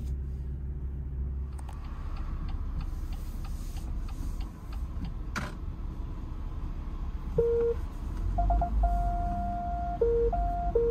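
Parking sensor on a BMW M140i beeping inside the car: steady repeated tones that quicken and turn into a near-continuous beep toward the end, over low cabin rumble.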